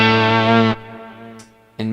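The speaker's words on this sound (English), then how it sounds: "If you're in mode 2, you hear, in this case with the GR300, hex fuzz guitar and synthesizer together." Bass guitar played through a GR300 synthesizer interface with hex fuzz and synth voices combined, a loud distorted sustained note that drops to a softer tail, then a sharp new attack near the end.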